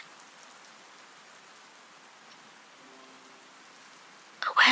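Steady rain hiss from a downpour fills the background at a constant level throughout, with a louder burst of noise near the very end.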